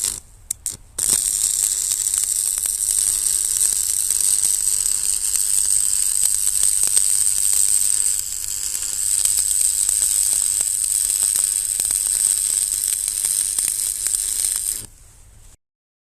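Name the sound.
welding on a landscaping tamper build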